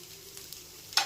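A fish fry coated in masala sizzles quietly in a pan and is flipped over, with a soft steady frying hiss and one short scraping clatter near the end.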